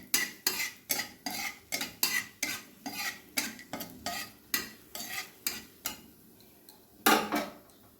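Whole garam masala, two cardamom pods and cinnamon are stirred in hot mustard oil in a karahi: quick, regular scraping strokes of a spoon against the pan over a soft sizzle, repeating about twice a second, close and fairly loud.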